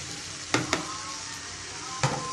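Chicken pieces with potatoes and green chillies sizzle steadily in a hot pan, a constant frying hiss broken by a few sharp clicks of a spatula stirring against the metal.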